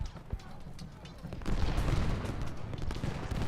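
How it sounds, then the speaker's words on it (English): Distant crackling musket volleys and occasional cannon booms in the Civil War strategy game Ultimate General: Gettysburg, dense and rolling, swelling louder midway through the battle din. "It'd be nice if my guys didn't shoot my own guys in the face with cannons."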